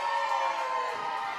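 Wrestling arena crowd at a Gianni Michael Enrico vs Zeke Mercer bout, a steady, dense wash of massed voices jeering and shouting, loud and continuous with no single voice standing out.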